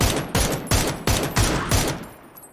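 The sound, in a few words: gunfire in video game PUBG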